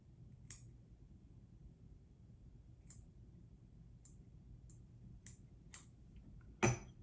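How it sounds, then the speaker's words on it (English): Small scissors snipping marabou while tying a Tarpon Toad fly: a handful of sharp, quiet clicks spaced irregularly over a faint room hush, close up, the last snip the crispest. "I'm going to pull that marabou back so I'm not getting any of that in there when I cut it."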